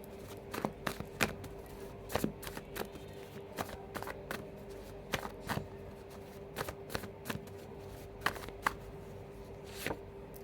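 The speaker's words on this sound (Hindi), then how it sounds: "अगर आप में से ऐसा कोई है जिनको कार्ड शफलिंग पसंद नहीं है, आप लोग ये वाला जो पार्ट है इसको स्किप कर सकते हैं" Tarot cards being shuffled by hand, with a quiet steady riffle broken by frequent sharp slaps and taps as the deck is worked over and over, close and fairly soft, with no voice.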